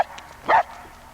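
A puppy barks once, a short sharp yap up close, with faint outdoor background around it and no talking during the bark.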